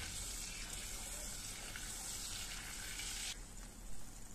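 Butter and a little oil heat in a sauce pan for Izmir köfte sauce, producing a continuous hissing sizzle that softens slightly near the end, with no voices.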